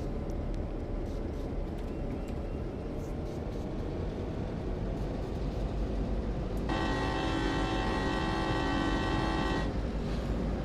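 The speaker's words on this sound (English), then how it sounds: "The horn still sounds a little awkward" A locomotive horn in Train Sim World 2 on the Clinchfield Railroad coal-hauling route blasts loudly for about three seconds over a steady rumble of the train in motion.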